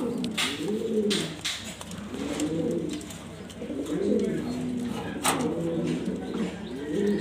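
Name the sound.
satin pigeons cooing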